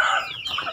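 A chicken gives a quick, close cluck, one brief bright call that fades fast.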